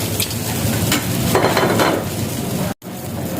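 Food sizzles steadily in a hot pan while a utensil scrapes and stirs it, close and continuous, with a brief cut near the end; rice fried with water spinach, anchovies and sambal belacan.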